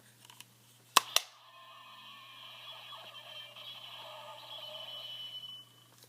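A couple of sharp plastic clicks as a Power Rangers Megaforce Robo Morpher toy closes, then a faint electronic toy sound effect buzzing and whirring for several seconds.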